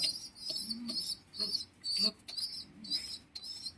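Pigeons in a loft, a pair kept with chicks, give short, repeated bird calls in quick bursts. Faint low murmurs sit beneath, and nothing else is clearly heard.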